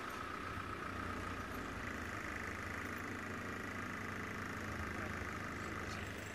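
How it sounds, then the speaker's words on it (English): A car engine runs noisily in a steady, loud drone heard from inside the vehicle, with a constant low rumble and broadband road-like noise throughout. "this car's making noise"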